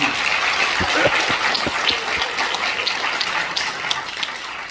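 Audience applause fills the main auditorium of the National Assembly Library during a June prayer breakfast, a steady dense wash of clapping that stays loud and even for about five seconds, with no speech over it.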